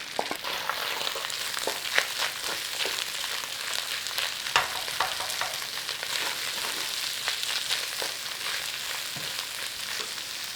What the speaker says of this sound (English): we're getting a little bit of browning on there, look. In there with your onions.